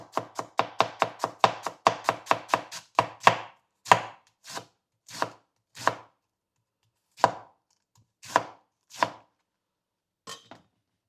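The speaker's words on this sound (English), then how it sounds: "And then I'm just gonna try to cut it as thinly as I can." Knife chopping vegetables for a grilled salad on a cutting board: a fast, steady run of crisp close chops that slows into spaced single cuts with pauses, no talking.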